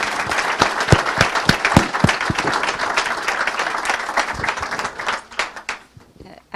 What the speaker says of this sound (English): another round of applause for Lily